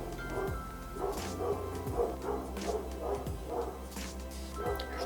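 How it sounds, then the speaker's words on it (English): A dog barks repeatedly at night, a series of distant, somewhat muffled bow-wow barks and yips coming in an irregular rhythm through about five seconds, with no talk. "put away your dogs"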